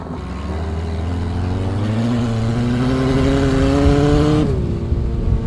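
Onboard a prototype buggy at an autocross race, the engine climbs steadily in pitch under full throttle for several seconds, loud and close, then drops sharply as the driver lifts.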